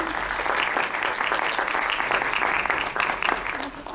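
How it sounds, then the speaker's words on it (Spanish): An audience at a panel discussion applauds the moderator with sustained, dense clapping from many hands, steady and fairly loud throughout before easing slightly at the close. "Un aplauso, por favor."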